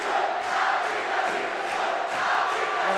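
Boisterous basketball crowd at a conference championship game, a steady dense roar of voices with rhythmic swells that suggest a chant, filling the arena without a break.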